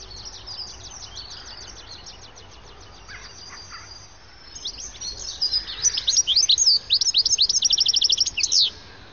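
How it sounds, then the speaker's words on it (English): A flock of goldfinches gives liquid, tinkling twitter calls, sparse and faint at first, then swelling into a dense, rapid chorus of close chirps near the end. "the chorus of liquid tinkling calls produced by a flock"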